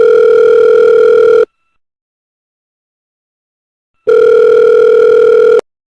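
Telephone ringback tone for a phone call: two long, loud steady electronic tones separated by about two and a half seconds of silence.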